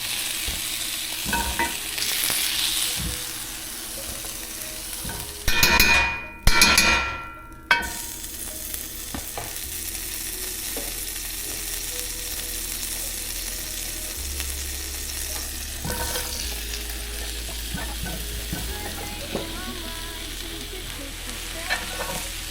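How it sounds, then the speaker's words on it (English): Chopped onions sauté in butter in a pan, giving a steady, close sizzle with a few louder scraping stir strokes near the start and no voices. "I did saute this down with butter"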